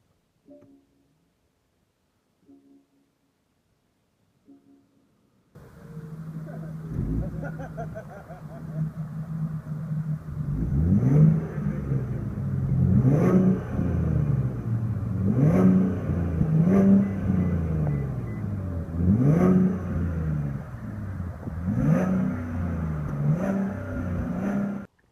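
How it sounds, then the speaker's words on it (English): A 2015 Porsche Panamera S E-Hybrid starts after a few faint clicks, then its engine settles into a close, steady idle and is revved repeatedly, each blip rising and falling in a regular series of sharp surges. "to start the engine, all I have to do is push a foot down on the brake"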